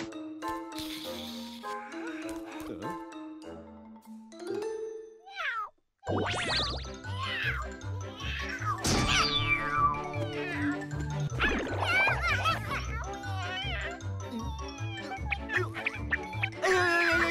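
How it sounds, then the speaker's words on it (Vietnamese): Cartoon cat meowing amid a lively animated scene, its cries rising briefly over music and effects rather than standing alone. "Mèo ở đâu ra vậy?"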